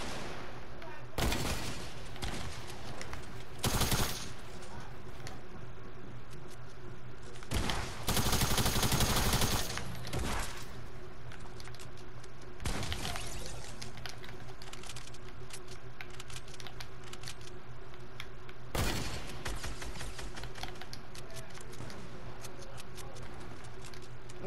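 Video game gunfire cracks in several loud bursts, some single shots and some rapid volleys, spaced across the clip over a low background of game sound and faint key clicks.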